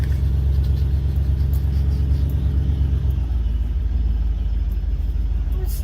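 A 1978 Dodge Ramcharger with a big-block engine rumbles while driving: a loud, steady, deep drone heard from inside, with the engine note shifting lower about halfway through, and no voices.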